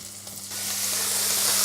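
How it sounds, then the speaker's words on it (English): Bacon lardons drop into melted butter in a hot pan and set off a sudden sizzle that builds into a steady bright crackling hiss, close and alone. "I'm going to go in with the bacon lardons"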